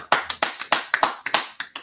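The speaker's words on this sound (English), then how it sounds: "All right, clap it up." A small group claps hands in a class setting, about a dozen sharp, uneven claps in quick succession, close and loud with no talking.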